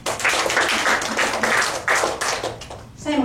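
A church congregation claps for God during a Surabaya service, a run of uneven rhythmic claps that rise and fall over several seconds, then a voice cuts in at the very end.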